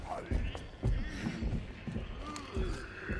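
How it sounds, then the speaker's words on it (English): Mr. X's heavy footsteps approaching in Resident Evil 2: evenly spaced, muffled thuds roughly every half second, fairly quiet under murky game ambience. "Oh boy, I can hear his footsteps."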